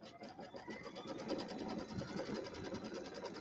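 A computerized sewing machine stitching out a custom quilting design, a steady fast mechanical whirring pulse running continuously at close range, moderately quiet.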